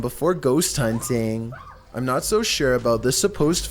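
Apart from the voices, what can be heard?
No everyday noise stands out behind the speech.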